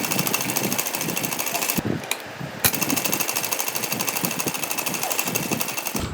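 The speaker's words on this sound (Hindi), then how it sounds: "देखिए हम इसकी 2 तरफ सिलाई लगाएंगे, एल शेप में सिलाई लगाएंगे हम इसमें" A sewing machine runs steadily, stitching an L-shaped seam in fabric for a decorative Radha Krishna dhoti, with a loud continuous mechanical whir and rapid needle ticking. There are two brief pauses near the middle before it starts again.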